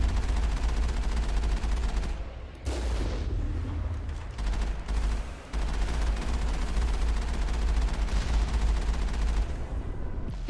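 Enemy gunfire in the Mass Effect video game forms a dense, continuous barrage of rapid shots and booms, loud and sustained with only brief dips.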